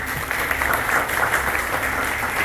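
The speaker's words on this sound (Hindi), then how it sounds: "एक बार जोरदार ताली दीजिए इनके लिए।" An indoor audience at a motivational talk breaks into sustained applause, a dense steady wash of clapping lasting the whole stretch with no voices over it.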